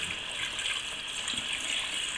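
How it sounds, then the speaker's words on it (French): Stock pours into a pan of rabbit legs cooking in white wine, making a soft, continuous splashing trickle for about two seconds. "Donc je vais mouiller avec mon bouillon."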